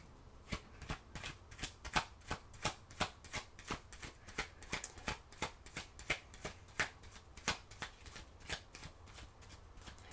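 A deck of oracle cards being shuffled in a steady run of crisp riffling bursts, close and fairly quiet, with no voice over it.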